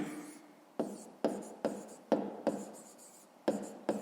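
A pen writes by hand during a fifth-grade math exercise, making quiet scratchy strokes that start with sharp taps and come in irregular short bursts, close up.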